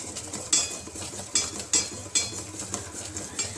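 Cream being stirred in a pan over a low flame, a utensil scraping the metal in repeated strokes that come about every 1.2 seconds, close and fairly soft, with no talking.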